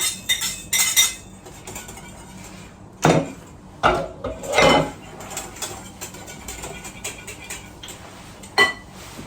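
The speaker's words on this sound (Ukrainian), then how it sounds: "Розмішувати все е, краще за допомогою вінчика" A whisk beats orange cake batter in a bowl, making irregular metallic clinks and scrapes against the sides, with a few louder knocks and quieter swishing between them.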